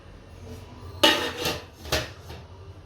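Metal pots clank in a home kitchen while a rice and dal pressure cooker is set up, with a sharp clatter, a second clank shortly after and a lighter knock, all close by.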